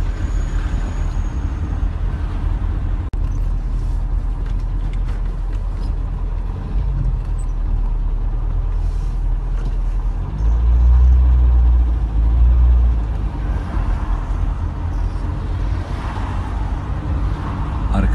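Dense, heavy street traffic rumbles steadily, with low engine drone and a louder vehicle surging close by near the middle, as a horse pulls a cart through a busy road in the midst of it.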